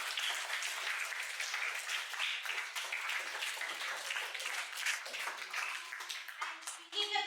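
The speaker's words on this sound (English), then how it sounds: "A round of applause to all the teachers." At a school Model UN event, an audience applauds the teachers with a steady, dense wash of clapping that stays fairly even and moderately quiet throughout.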